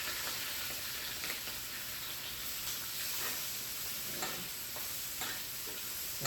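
Pompano fish sizzling in a pan as it is basted with lemon: a continuous loud frying hiss, with light spoon scrapes and taps at irregular moments, and no talking.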